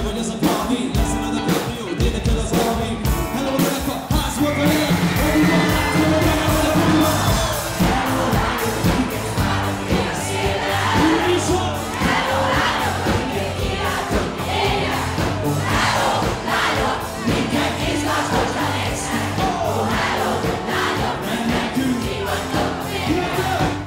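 A large festival crowd at an outdoor university-days concert in Pécs sings along and cheers, a loud, continuous roar of many voices with music thumping underneath throughout.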